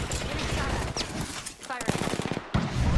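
Rapid automatic gunfire in the Apex Legends battle royale game, bursts of shots crackling near and loud amid game effects, with a voice talking over parts of it.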